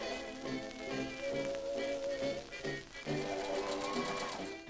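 A sewing machine runs a regular-length stitch along the seam of a 1920s-style dress sash, its steady motor whir continuing through a few short pauses and restarts at close range.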